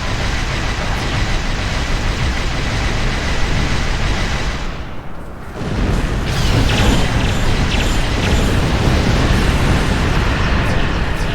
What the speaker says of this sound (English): Gotta love those disruptor cannons